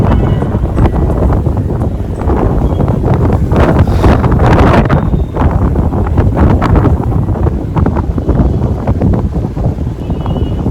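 Loud, strong wind on high ground near Palani buffets the microphone in heavy, continuous roaring gusts, drowning out everything else.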